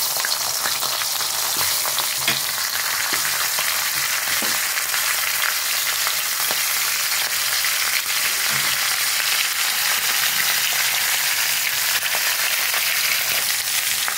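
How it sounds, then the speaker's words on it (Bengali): Fish heads seasoned with salt and turmeric frying in hot oil in a kadai, a loud continuous sizzle and crackle close up, with occasional spatters and stirring clinks and no talking. "এখন আমি মাছগুলো মাথাগুলো ভালো করে ভেজে নেব"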